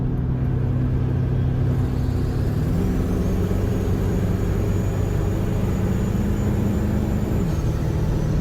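Ford 7.3 Powerstroke diesel truck driving after an injection control pressure sensor replacement: steady loud engine drone and road rumble from inside the cab, with the pitch shifting slightly as the truck changes speed.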